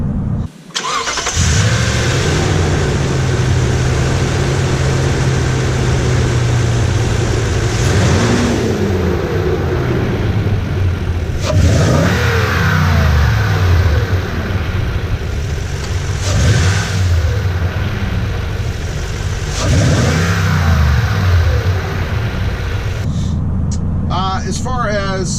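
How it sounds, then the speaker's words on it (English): Toyota Tundra TRD pickup fitted with a cold air intake and aftermarket exhaust, engine starting then repeatedly revving and dropping back to a rumbling idle, heard close and loud over about twenty-five seconds. "when you get on it a bit, you can hear a little bit more sound coming out of the front, going through that cold air intake"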